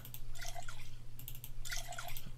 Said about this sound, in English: Let's empty out this beer.